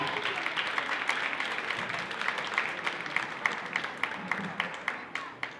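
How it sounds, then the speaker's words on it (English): Faint, somewhat distant clapping from the crowd at a salsa festival awards night in Beirut, a dense patter with sharper individual claps standing out, continuing steadily for several seconds. "please give a round of applause to Charles Makriss"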